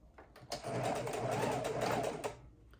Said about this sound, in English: start on the other side and sew it together